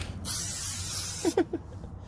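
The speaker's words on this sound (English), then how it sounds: "Spray some down here." A single loud, sustained hiss of an aerosol can spraying Fluid Film undercoating under a Jeep Gladiator nearby, lasting about a second, then cutting off as a short voice sound follows.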